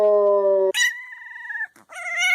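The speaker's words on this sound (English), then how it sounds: "Think small dog, big dog." Two dogs, one small and one big: a sustained low howl or whine followed by higher-pitched yelping and whimpering calls, close and clear without speech.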